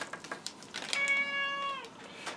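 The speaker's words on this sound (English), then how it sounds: "And the Cubit the cat is trying to get in on the act" A cat meows nearby in a single drawn-out, rising-and-falling cry, preceded and followed by light tapping and rustling in an otherwise quiet room.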